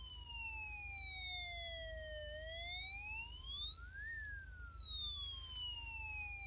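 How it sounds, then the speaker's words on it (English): A Snap Circuits electronic siren rings out loud and steady, its wailing tone sweeping down, then up and down again in a continuous electronic whoop over a low hum. "when I turn on the slide switch, the siren will be a little bit louder"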